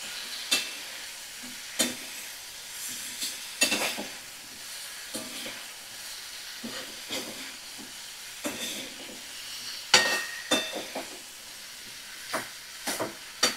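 Spice paste being stirred and sautéed in a pan for a winter vegetable dish, with a steady low sizzle and hiss broken by sharp, irregular scrapes and clatters of the spoon against the pan.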